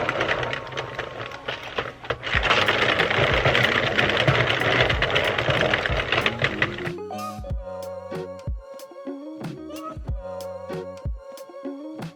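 Knitting machine carriage cranked back and forth across rows of a sweater sleeve, a dense continuous mechanical whirring and clatter for about seven seconds, close and loud, followed by quieter sparse clicks and knocks.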